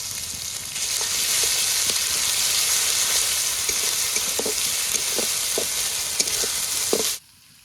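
A paste of ground green and dry chillies fries in hot oil with ginger-garlic paste, making a loud, steady hiss with soft stirring ticks throughout before cutting off abruptly near the end.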